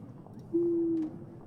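Video game sound of a pigeon arriving with a message: a single clean, hoot-like tone held for about half a second, fairly loud and alone over a faint background of music.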